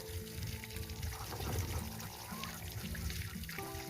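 Egg-laying ducks splash and shake their feathers in water, producing a continuous watery sloshing and trickling at moderate distance, with tonal sounds drifting underneath.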